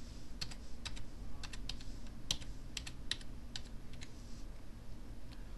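Quiet, close-up typing on a computer keyboard while entering patient details, a scattered run of crisp key clicks over a low background hum.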